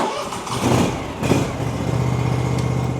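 A John Deere X590 garden tractor engine cranks and catches, then settles into a steady idle, close and fairly loud with no talking.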